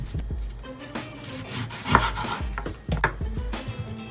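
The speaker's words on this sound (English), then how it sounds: "Let's cut up the red peppers." A knife chops red peppers on a cutting board in a home kitchen, giving irregular close knocks and rubbing scrapes, with two louder sharp hits and no talk.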